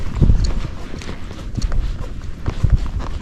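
Hooves of a Tennessee Walking Horse being ridden alone up a hill on a trail, a close, clear clip-clop in an uneven gaited rhythm with several distinct strikes and no talk.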